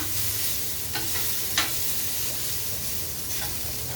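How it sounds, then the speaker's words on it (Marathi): Onion, garlic and curry leaves sizzle steadily in a pan in a home kitchen, a constant loud frying hiss with a few brief scraping stirs of a spoon against the pan. "मध्ये मध्ये कांदाही हलवूया आपण."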